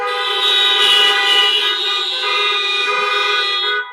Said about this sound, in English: Honk if you agree with me.